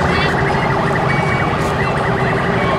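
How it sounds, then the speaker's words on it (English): Police and fire sirens blare together at an outdoor air and classic car show, a loud, dense, continuous wail of overlapping tones with no pauses. "Looks like they're letting all the police and fire sirens off."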